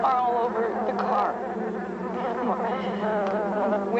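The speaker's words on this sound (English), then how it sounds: "The bees are all over the car." A swarm of bees buzzes densely and continuously around and over a car, the droning hum loud and close with shifting, overlapping wingbeat tones throughout.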